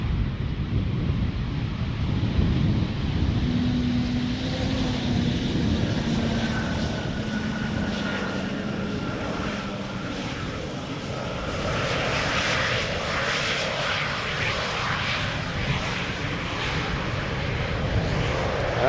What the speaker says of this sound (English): Embraer just touched down.